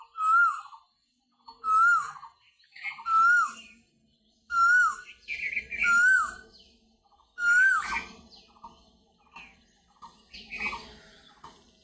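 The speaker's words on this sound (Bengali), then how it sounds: "ঘুঘু পাখি ডাকছে, কোকিল ডাকছে।" Birds calling near a Shiva temple under twin banyan trees in Dinajpur, with doves and cuckoos named; clear repeated whistled call phrases arrive in a steady rhythm with short gaps, near and fairly loud, with no talking.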